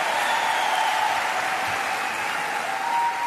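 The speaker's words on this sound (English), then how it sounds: "Give yourselves a round of applause" Audience applause filling a city hall at an evening rally, a dense, steady wash of clapping and crowd noise that holds loud throughout.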